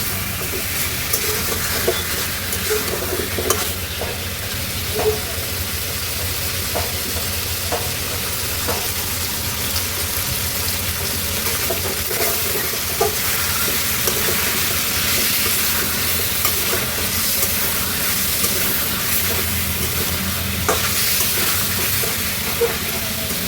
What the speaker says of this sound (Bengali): দেখতে পাচ্ছেন আমি কিছুক্ষণ পর কিন্তু নেড়ে নেড়ে ভেজে নিচ্ছি।